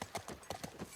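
Horse hooves clip-clop in The Last of Us, several quick, close hoof strikes in an uneven trotting rhythm.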